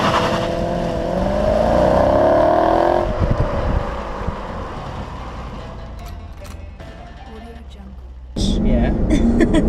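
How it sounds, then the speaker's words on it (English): A Chrysler 300C SRT8 driving in traffic, its engine giving a low, throaty growl heard from inside the car, loudest early and then settling under steady conversation. "we've basically got like a nice growl to the engine, as you can hear it"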